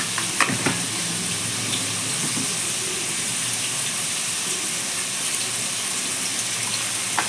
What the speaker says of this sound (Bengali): লাল করে ভেজে নেব আলুটা ভাজা হতে হতে